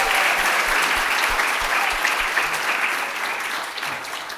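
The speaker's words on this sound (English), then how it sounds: "let's give her a round of applause" An audience at an end-of-year gathering applauds a new doctoral graduate, with steady, many-handed clapping that holds strong and slowly tapers toward the end.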